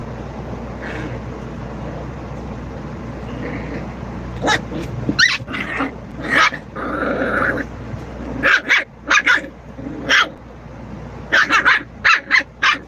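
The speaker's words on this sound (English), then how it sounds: "And them dogs sound serious" Several dogs bark in loud, irregular bursts, some close and sharp, others further off, over a steady low background hum with occasional growling.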